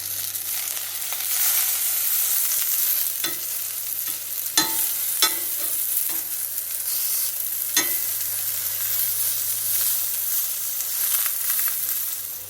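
Eggplant slices sizzle steadily in sesame oil in a hot pan, a continuous close frying crackle broken by a few sharp clicks and scrapes of handling, with no voices.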